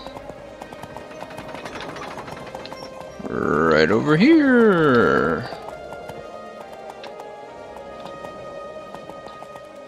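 A horse in the fantasy role-playing game Two Worlds gallops with soft, rhythmic hoofbeats, and a loud whinny rises midway while someone talks over the game sound.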